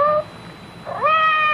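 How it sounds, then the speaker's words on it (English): A cat meows twice as a radio drama sound effect, a short rising cry, a brief pause, then a longer meow, close and clear against a quiet background. "It sounded like Madame's cat, Francois."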